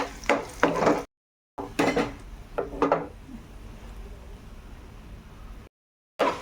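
A spatula scrapes and knocks against a pan as turmeric is stirred in while frying, giving a few bursts of clattering strokes followed by a quieter steady sizzle, broken by short silent gaps.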